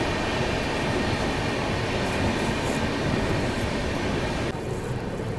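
The Humsafar Express pulls out of Bhopal Junction with a loud, continuous rumble of wheels on rails and a faint clatter. It eases slightly near the end, with no voices.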